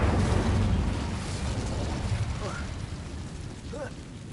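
An Incendio fire spell from Hogwarts Legacy bursts out loud and close with a roaring, eruptive whoosh, then settles into a sustained crackling rumble that slowly fades.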